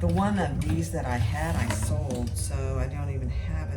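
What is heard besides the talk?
No distinct noise like a dog, phone or traffic.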